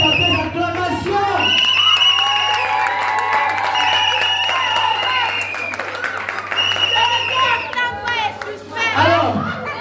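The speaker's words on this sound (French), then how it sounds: "Rends toute la gloire à Jésus par tes acclamations." A crowd at a church concert cheers, claps and calls out in praise, loud and continuous with overlapping voices, some high-pitched shouts, and a steady low hum underneath.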